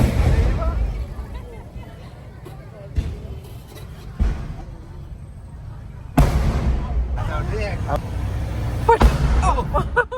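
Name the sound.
firecrackers bursting at a temple festival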